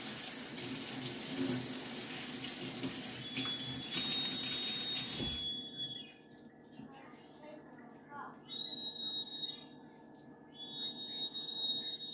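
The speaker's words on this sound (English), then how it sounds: "I gotta wash them again." Tap water runs into a sink while green onions are rinsed, a steady splashing rush for several seconds that stops abruptly, followed by quieter handling sounds and faint voices in the room.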